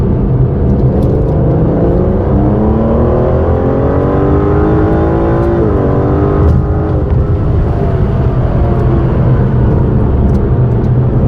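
Aston Martin DBS Superleggera engine climbing hard toward the red line with the windows closed, a loud, continuous rising roar heard from inside the cabin, with a brief dip as the pitch resets before building again.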